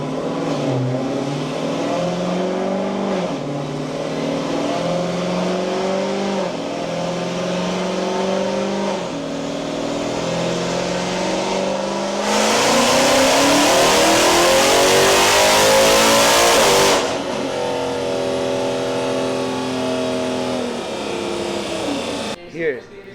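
A widebody Dodge Hellcat on a nitrous tuning run revs hard through repeated rising pulls, then surges into a loud, full-throttle roar that cuts off abruptly near the end. The engine stays close and dominant, with voices in the background.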